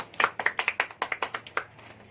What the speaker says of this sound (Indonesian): Tepuk tangan dulu untuk teman yang sudah menjawab.